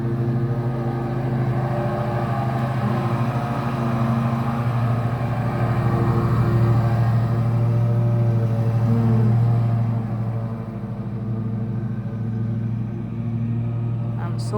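A lawn mower running outside, a continuous engine drone with a slight swell and dip in pitch, heard under a person talking indoors.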